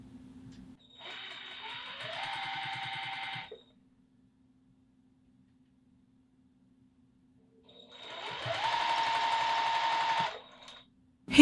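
Sewing machine stitching patchwork fabric seams for a scrap pillow, two separate bursts of rapid mechanical whirring and needle clatter, each lasting a few seconds, with a quiet stretch between them.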